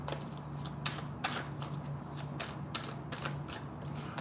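Tarot cards riffle and slap together in quick, repeated bursts, a close, crisp shuffling with a faint low hum underneath.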